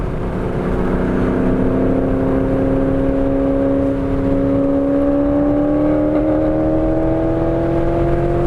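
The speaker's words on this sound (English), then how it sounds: "That car is loud. For sure is loud." A loud Mercedes GLE63 AMG engine drones steadily at high revs, its pitch climbing slowly as the SUV accelerates along the track, with no voices over it.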